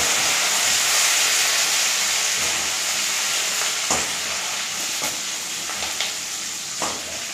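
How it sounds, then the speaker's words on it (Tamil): Garlic and curry leaves sautéing in a pan, a loud, constant hissing sizzle with a few sharp stirring taps near the end, no speech. "இப்போ பூண்டு நல்லா வதக்கிட்டு கருவேப்பிலை போட்டுடலாம்."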